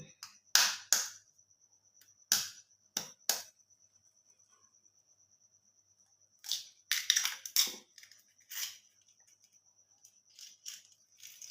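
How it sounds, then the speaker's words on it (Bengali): An egg cracked into a bowl in a kitchen: scattered sharp cracks and shell taps in short clusters, close and crisp, separated by near silence and set against a faint high electrical hum. "ডিমটাকে এর মধ্যে ফাটিয়ে দেবো"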